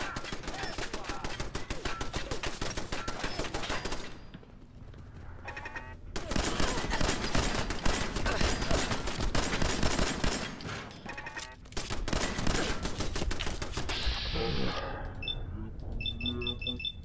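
Automatic gunfire in Fallout 4 rattles in long, rapid bursts with short pauses between volleys, loud and close, ending in a few scattered shots.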